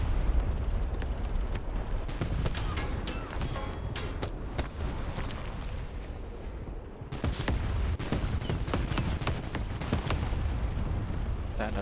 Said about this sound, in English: That artillery strike just took out what was left of my barrel.